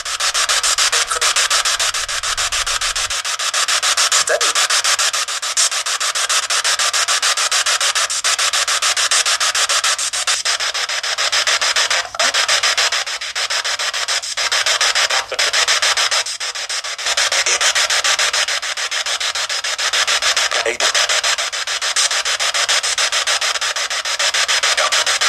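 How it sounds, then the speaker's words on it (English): A spirit box rapidly sweeping through radio stations, giving a continuous loud wash of hissing static broken by brief clicks and stutters, steady for the whole stretch with no voices. "I'll play a little clip of a spirit box in action. This is what it sounds like."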